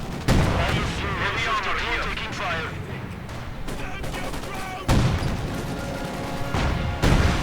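Artillery fire from an IC-152 gun in the Company of Heroes 2 strategy game, heavy booming blasts with two sharp loud impacts standing out amid dense battle noise, explosions and scattered gunfire, with commentary talk running over it.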